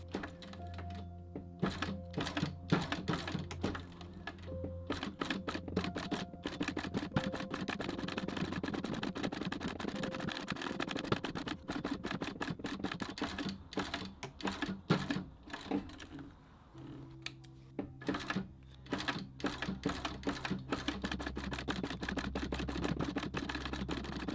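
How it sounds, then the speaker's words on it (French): Leather pouch with piping being stitched on a sewing machine, giving rapid, close, repetitive mechanical clicking in long runs, with a brief lull partway through before stitching resumes. "Allez, c'est enfin parti pour la couture."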